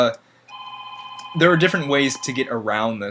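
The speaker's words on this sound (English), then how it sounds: "I apologize for the phone ringing" A telephone rings with steady electronic tones, starting alone and then continuing faintly beneath someone speaking in a quiet indoor room.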